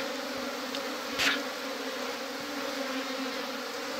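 A honey bee swarm gathering around its queen at a mountain hive buzzes in a steady, dense drone, with one bee briefly passing close and loud.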